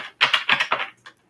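A deck of tarot cards is shuffled by hand, giving a short burst of four or five quick papery riffles and then one last soft flick, close and alone.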